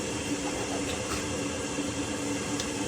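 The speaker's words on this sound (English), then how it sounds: "You can hear the water heater going off, electric water kettle." Electric water kettle heating water in a home kitchen, a steady broadband hiss and rumble that holds evenly throughout without breaks, moderately quiet and alone with no talking.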